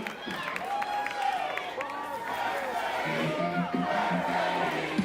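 A live wrestling show crowd cheers and shouts, a noisy mix of voices and yells that carries on throughout, with some scattered clapping mixed in.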